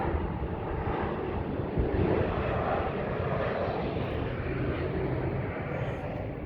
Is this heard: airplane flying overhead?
yes